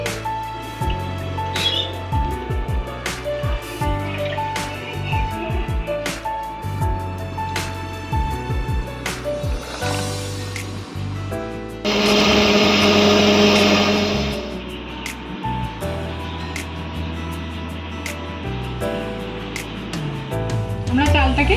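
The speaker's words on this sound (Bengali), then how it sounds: "এবার আমি মিক্সিং বলে পেস্ট করে নেব।" Kitchen mixer grinder whirring as it grinds soaked, washed rice into a paste, a steady loud motor roar lasting a few seconds amid clattering kitchen noise and a voice talking.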